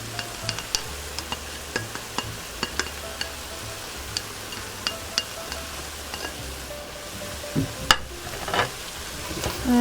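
Sausage sizzles quietly in a pan with broccoli rabe, a soft continuous frying hiss punctuated by light clicks and scrapes of stirring, with no voices.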